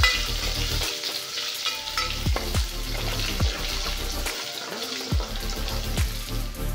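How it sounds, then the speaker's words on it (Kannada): Crushed garlic fries in hot oil in a pan for hotel-style bele rasam, a loud continuous sizzle broken by repeated scraping stirs of a spoon against the pan. "ಆದಮೇಲೆ ಬೆಳ್ಳುಳ್ಳಿ ಜಜ್ಜಿಟ್ಕೊಂಡಿದ್ದೀನಿ, ಅದು ಹಾಕ್ಕೊತಾ ಇದ್ದೀನಿ. ಇದು ಚೆನ್ನಾಗಿ ಫ್ರೈ ಆಗಬೇಕು ಬೆಳ್ಳುಳ್ಳಿ."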